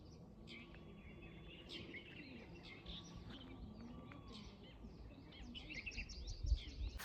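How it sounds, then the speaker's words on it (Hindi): Soft, scattered morning bird chirps and calls in the mountains over a steady outdoor hum, fairly distant, with a low thump near the end. "सुबह उठो और चिड़ियों की चहक सुनाई देती है"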